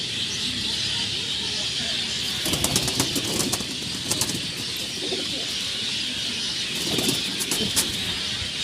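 Flying pigeons coo steadily under a constant outdoor hiss, with bursts of sharp wing flaps and clatter coming in clusters around the middle and near the end.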